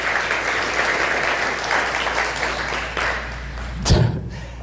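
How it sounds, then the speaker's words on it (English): Conference audience applauding a speaker, a steady wash of clapping over a low hum that ends in a sharp thump near the close. "Let's have a round of applause for Annie Bosco"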